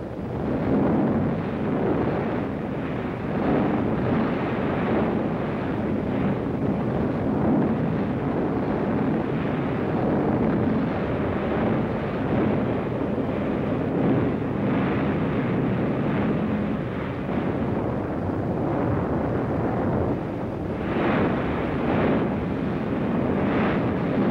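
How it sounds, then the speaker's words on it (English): Soviet Katyusha rocket launchers firing in 1944, a loud continuous roaring rumble of rocket salvos that swells and rolls on for over twenty seconds without voices. "Rocket guns, Katyusha, the Russians call them."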